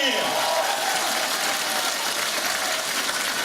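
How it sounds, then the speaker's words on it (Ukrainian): An audience applauds at a lively community concert event, a steady, dense patter of many hands clapping at moderate loudness throughout. "Аплодуємо за пані Оксану ваші оплески."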